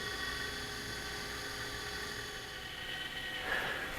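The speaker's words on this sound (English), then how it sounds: "there you can see the ice cream being churned by the motor assembly" A Cocinaré KRUSH ice cream maker's motor churns ice cream with a steady mechanical whir and hum, moderately quiet, with a brief higher whine near the end.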